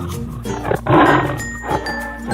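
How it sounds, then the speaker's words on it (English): A tiger roars once in a cartoon, a loud, close growling burst that swells and then fades over light background music. "Tiger."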